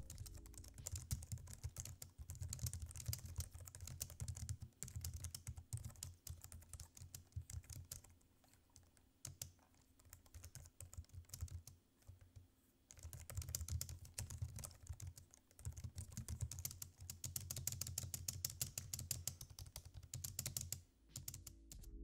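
Steady typing on a Logitech MX Keys low-profile, non-mechanical keyboard with firm keys, a fast run of crisp, close keystrokes with one brief pause partway through.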